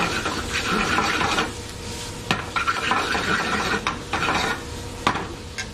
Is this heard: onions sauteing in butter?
yes